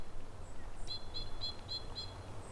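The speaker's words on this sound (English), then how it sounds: "Hear that? Lots of birds out here." Birds calling outdoors in a wild area, a short run of about five clear, evenly spaced high chirps over a steady low rumble of background noise.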